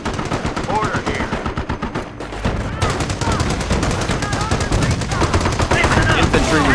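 Enemy armor opens fire in the World War II strategy game Company of Heroes during the Cherbourg Normandy invasion: loud, sustained machine-gun bursts with rapid rattling shots, continuing nearly the whole time, with game voices calling out over the battle.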